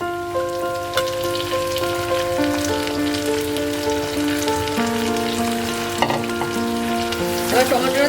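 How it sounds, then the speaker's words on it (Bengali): Kashmiri chilli and tomato sizzle steadily in a pan for a Bengali-style chilli chicken, a continuous crackling hiss beneath sustained tonal background music. "কাশ্মীরি লঙ্কাটা ভাজা হয়ে গেছে, এবার টমেটো কাটা আছে সেই টমেটোটা দিয়ে দেবো।"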